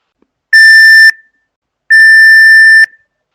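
Two loud, steady electronic beep tones, each lasting about half a second to a second, separated by a short silence.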